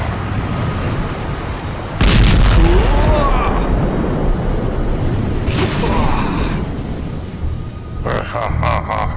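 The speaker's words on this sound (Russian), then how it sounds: "Великая океаническая пушка!" Three heavy booming blasts go off loud and close, spaced a few seconds apart over a dense rumbling background with voices in between.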